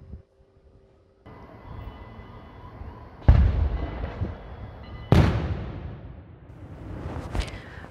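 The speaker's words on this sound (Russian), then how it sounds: "Это была старинная турецкая пушка, которая своим залпом оповестила всех жителей Иерусалима" An old Turkish cannon fires two heavy booming blasts a couple of seconds apart in Jerusalem during Ramadan, each with a long rumbling decay, over a steady background hum, with a sharper crack near the end.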